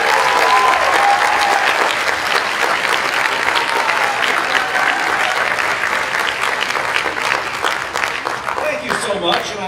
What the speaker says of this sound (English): Nice round of applause for Mr.